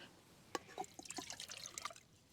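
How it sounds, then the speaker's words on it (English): Water trickles and splashes into a cup at a wild camp on Black Mountain, with a few brief drips and a steady, quiet pour lasting a couple of seconds. "why do I pour the water into the cup before I put it in the saucepan"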